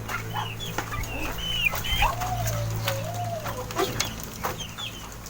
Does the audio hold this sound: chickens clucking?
yes